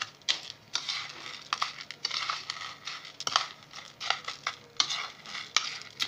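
Close stirring of a badi chura mixture as salt is worked in, producing busy rustling scrapes and soft clinks in uneven bursts, with no talking.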